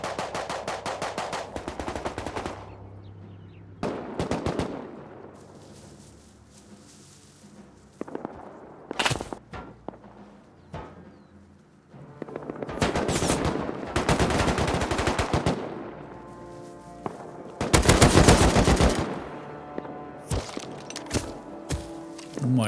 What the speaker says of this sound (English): I could hear a raid in the distance